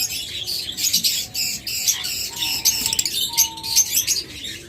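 Olive opaline pet birds chirp and squawk in a steady, busy chatter of overlapping high calls, close and fairly loud, with no voices.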